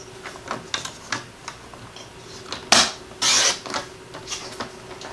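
A piece of white cardstock is cut for a handmade thank-you card: light clicks and taps, then two louder, brief scraping swipes of the cut close by, with no talking.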